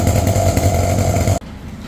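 The small two-stroke engine of a whipper snipper runs loud and close with a buzzing drone after a fuel line repair, then cuts off abruptly.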